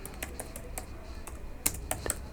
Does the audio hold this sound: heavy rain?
no